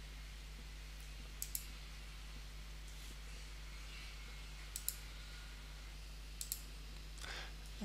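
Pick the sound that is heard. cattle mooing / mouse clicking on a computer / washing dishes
mouse clicking on a computer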